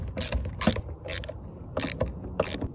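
Screws being driven into a low-profile license plate frame on a BMW E46 wagon, heard as five short bursts of clicking tool mechanism separated by brief pauses, moderately close with no voices.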